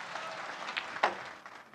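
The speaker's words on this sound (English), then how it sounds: "There's not great applause." Sparse, quiet applause from a snooker crowd at a World Open quarter-final, a light patter of clapping with one sharper clap near the middle, fading out after under two seconds.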